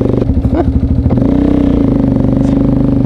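Small Italian delivery scooter engine revving close by and passing, a loud buzzing mid-pitched motor with clattering at the start, then a steadier drone fading slightly; no talk.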